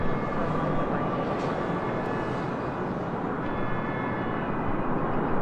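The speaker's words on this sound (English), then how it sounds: "That was Flight 26 with American Airlines coming in from Tokyo Haneda on the 787-8 Dreamliner" An American Airlines Boeing 787-8 Dreamliner arrives from Tokyo Haneda and lands on the runway. Its broad, steady jet roar stays loud and continuous the whole time, heard from a distance with no other sounds on top.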